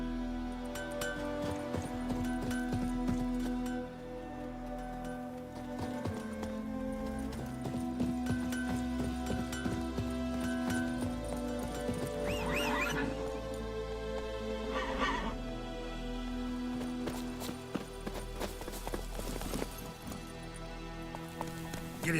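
A horse in The Witcher 3 video game trots with steady, rhythmic clip-clop hooves over a sustained musical drone, with an occasional neigh and faint bird calls in the background.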